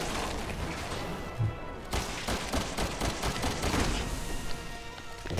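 Gunfire in the survival-horror video game Resident Evil 6, a fairly loud, continuous clatter of rapid shots and mechanical noise with a few sharper bursts.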